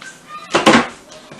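A large bowl is pulled out in a home kitchen, giving a short burst of clattering and scraping, like a cupboard opening and dishware shifting, close and fairly loud for under half a second amid quiet room tone.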